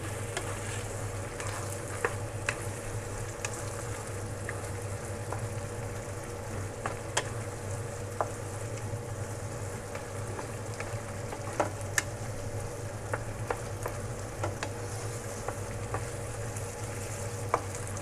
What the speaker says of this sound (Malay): Nak tahankan api sikit sebab dia dah mendidih pula.